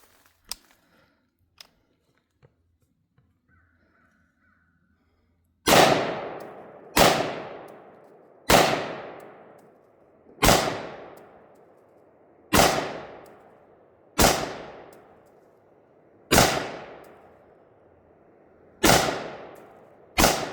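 A video-game rifle called the ClusterFuck fires about nine loud, sharp single shots, each with a ringing decay, spaced roughly every one and a half to two seconds after a few quiet seconds with faint clicks.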